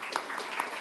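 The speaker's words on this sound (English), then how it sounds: "I want everyone to give him applause" Audience applause for a startup pitcher at a final pitching event, a short burst of steady clapping from a crowd at moderate distance, with no one talking over it.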